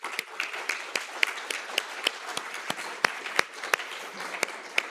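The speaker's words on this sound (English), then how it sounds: "let's give them an applause." Audience at a European cybersecurity certification conference applauding in a hall, dense steady clapping with sharp individual claps standing out throughout.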